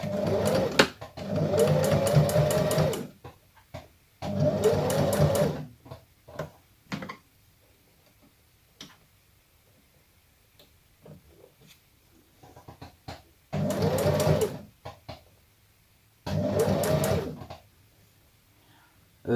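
Domestic sewing machine stitching fabric in short bursts, about four loud runs of a few seconds each separated by quiet handling and clicks, close up with no talking.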